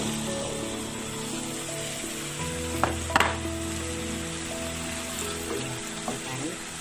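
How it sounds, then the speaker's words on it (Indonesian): Curry-coated eggplant and potato pieces drop into a hot pan for an Indian dalca, setting off a steady, close sizzle of frying with a few sharp clattering knocks partway through and no talking. "Baru saya masukin potongan terong dan kentang yang sudah dilumuri bumbu kari ya"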